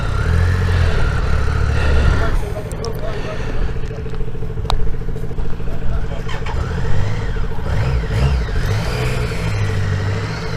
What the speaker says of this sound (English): Mark stalling his motorbike